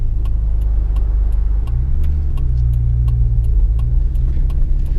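A Mazda engine holding a steady idle just over 1,000 rpm, loud and close, a constant low rumble with a faint regular ticking and a brief swell in the middle.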